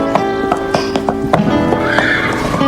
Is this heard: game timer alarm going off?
no